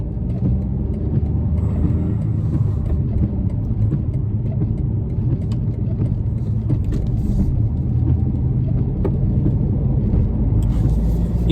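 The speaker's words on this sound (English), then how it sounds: "I heard the engine revving a little bit." A BMW 2 Series Gran Coupe M Sport engine driving in traffic, a steady low rumble with tyre and road noise throughout and occasional faint ticks, heard from inside the cabin.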